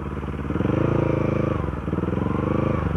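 A motorcycle rides along a rough road, its engine thrumming close and loud with a steady pulsing beat that dips briefly and picks up again.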